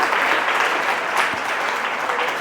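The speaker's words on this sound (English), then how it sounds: "Chris back there, give Chris a little hand." Full audience applause at a live podcast taping in Chicago, a dense and loud wash of clapping from a crowd that holds steady throughout with no talking.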